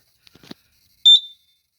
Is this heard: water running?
no